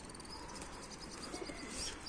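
A lone stray pigeon settled on a rooftop gives faint cooing amid soft chirps and a low background hum, quiet and somewhat distant with no talk.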